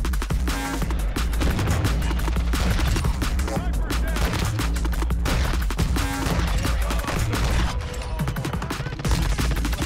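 SPR 208 sniper rifle shots ring out in a video game, loud and repeated amid a dense, continuous wash of other gunfire, blasts and game noise.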